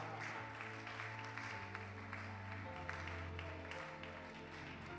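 An audience at a leaders' graduation ceremony applauds a graduate, with steady, dense clapping from many hands filling the room throughout and a low hum beneath.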